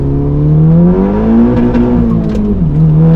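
A car engine revving hard up close after a lap at the Nürburgring, a loud steady roar that rises in pitch and then drops back, alone with no talking.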